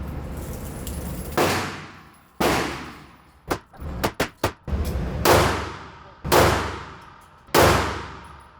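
A Springfield Prodigy Comp pistol fires about nine loud, close shots, each a sharp crack with a ringing decay. The shots come at a steady pace, with a rapid burst of three or four in the middle.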